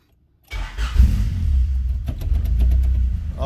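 A Honda H22A engine in an EK chassis cranks and fires up after a crank position sensor swap, then settles into a steady, loud close-up idle with a few sharp ticks and no talking.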